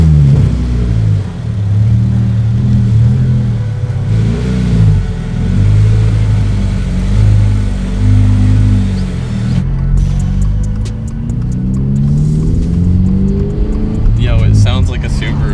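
Subaru BRZ fitted with a new aftermarket exhaust revs repeatedly at first start, a loud, close rumbling engine rising and falling in pulses, with people talking over it.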